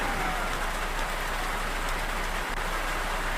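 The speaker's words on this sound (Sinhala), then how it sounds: "ඒක දිගට නවනත්තා වහිනවනේ." Steady, dense rain hisses without a break in a mobile bus-driving game during a flood, a loud, even wash of drops with no other sounds standing out.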